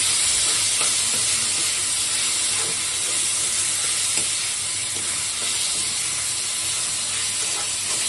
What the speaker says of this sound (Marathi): आता टोमॅटो पूर्ण सॉफ्ट होईतो तर आपल्याला गॅसवरती याला परतत राहायचं आहे